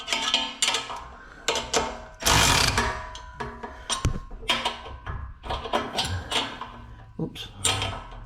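A ratchet wrench works on the exhaust of a Chevy Nova, clicking in loud close bursts of quick pawl ratcheting with metallic clanks and pauses between strokes.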